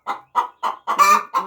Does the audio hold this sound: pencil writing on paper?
no